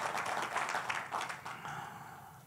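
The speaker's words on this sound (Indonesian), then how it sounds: "Kasih tepuk tangan kepada Tuhan." A church congregation claps during a worship service, a short, fairly soft stretch of crowd clapping that eases off toward the end.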